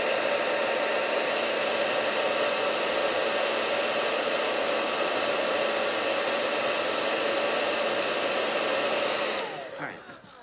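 A hair dryer blows steadily and loudly at close range for about nine seconds, then switches off and winds down, with no talking.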